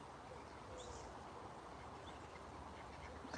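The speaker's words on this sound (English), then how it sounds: "Ducklings." Ducklings quacking faintly and distantly on an urban walking trail, a few brief calls rising above a steady outdoor background hum.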